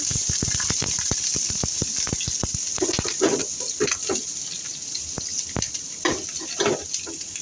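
Onion, ginger and garlic sizzle and crackle in a hot pan for chicken curry, with steady frying hiss, sharp pops and the scrape of stirring throughout.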